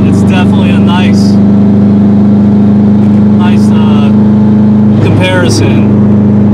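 2005 Subaru WRX STi engine droning steadily while driving, a constant low hum from inside the cabin with brief voices talking over it.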